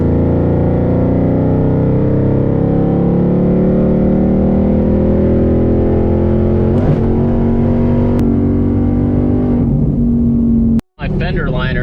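A Ford Mustang with a drag pack and skinny tires accelerates at full throttle, the engine note climbing steadily and loudly through the gears with brief shift breaks and a sharp cut near the end.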